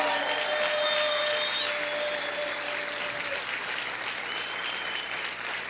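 A church congregation applauds loudly and steadily, a dense continuous clapping with a few voices rising above it.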